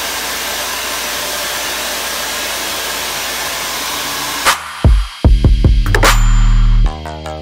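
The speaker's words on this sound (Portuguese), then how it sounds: "coloca o pente garfo e joga o secador com a quente por baixo assim e puxa" Hair dryer on the hot setting blowing under a pick comb while detangling afro-textured hair, a steady loud broadband whoosh that stops abruptly partway through, followed by a few close clattering handling sounds.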